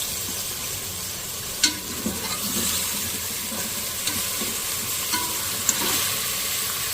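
Bone-in mutton sizzles steadily in a hot pan with a constant crackling hiss. Occasional scrapes and clinks of stirring break through now and then.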